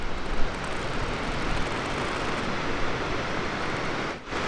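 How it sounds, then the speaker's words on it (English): Steady broadband rushing water from a small roadside waterfall in a canyon on US 550 near Ouray, Colorado, continuous and fairly loud, like falling water nearby, with a brief dip near the end. "Little waterfall going on."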